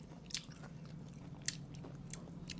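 Close, quiet crunchy bites into pickled grapes, a few sharp crisp snaps spaced apart over a low steady background hum.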